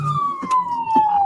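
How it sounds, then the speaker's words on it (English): A police car siren wails loudly and close, one steady tone sliding slowly downward, with faint road noise and a few bumps from a moving vehicle beneath it. "With their siren and lights on."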